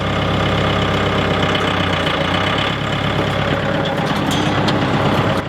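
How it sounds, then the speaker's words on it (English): A tractor engine idles and runs loudly while driving a PTO wood chipper, a steady heavy low rumble with knocking texture, close and continuous, with no talk. "So to get the wood chipper started on the tractor, turn the tractor on obviously."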